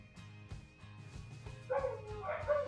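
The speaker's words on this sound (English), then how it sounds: "even the dogs are getting loud" Several dogs bark and yip in short repeated bursts at a home early in the morning, growing louder and more excited toward the end, with a steady electrical hum underneath.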